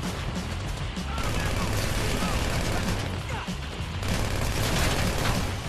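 Gunfire during a bank robbery shootout in Grand Theft Auto 5: loud, dense rattling bursts of shots and booming impacts throughout, mixed with game voices and sirens.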